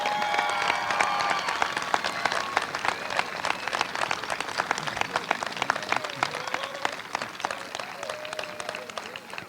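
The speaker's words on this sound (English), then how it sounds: "I want you all to give all these kids a big round of applause." A crowd at a youth baseball championship game applauds steadily, dense clapping filling the space with some whistles and cheers mixed in, loud throughout.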